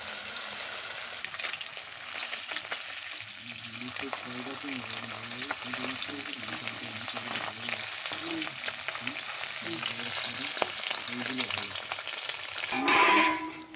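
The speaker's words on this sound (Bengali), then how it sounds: "মাছগুলোকে উল্টে পাল্টে লাল করে ভেজে তুলে নিলাম" Small river mourala fish frying in hot oil in a pan, a continuous crackling sizzle with occasional scrape and stir of a spoon, steady and close throughout, ending with a brief louder clatter.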